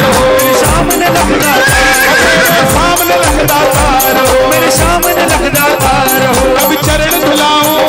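A horse neighing effect rings out within a loud Khatu Shyam devotional bhajan, the whinny riding over driving percussion, clip-clop beats and dense music throughout.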